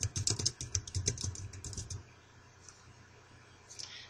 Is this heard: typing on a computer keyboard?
yes